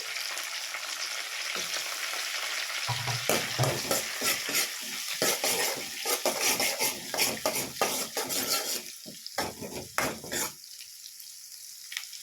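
Onions and curry leaves frying in a pan, with a steady sizzle under repeated scraping and clinking of a spoon stirring against the metal, continuing in irregular bursts.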